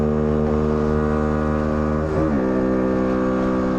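A Bullit Hero 50cc double overhead cam motorcycle engine drones loudly and steadily up close, its tone shifting briefly as revs dip and change partway through, in freezing outdoor conditions.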